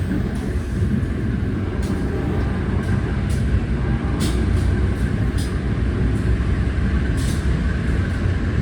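The Sri Tanjung economy-class train rolls into track 4 at Purwosari station in Solo, a steady heavy rumble of wheels and carriages with faint high squeals and hisses recurring throughout, no talking.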